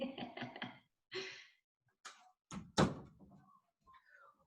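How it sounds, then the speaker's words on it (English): An interior door closes at home with a distinct thunk, followed by quieter handling noises and a faint voice murmur; a few muffled spoken syllables come just before. "I'm going to close my door."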